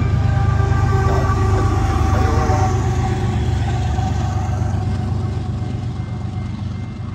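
A BNSF freight train led by locomotive 9077, with a 25th anniversary sticker unit, rumbles past loud and close, a sustained roar of engines and rolling cars that slowly fades toward the end.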